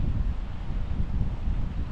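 Strong storm wind buffeting and roaring across the microphone at a wild camp in the Dales, a continuous low rumbling gust with no pauses.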